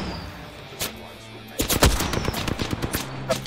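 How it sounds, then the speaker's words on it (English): Gunfire in a multiplayer shooter video game, a single shot followed by rapid bursts of close automatic fire crackling in quick succession, loud against a low ambient hum, no talking. "No armor, being shot over here."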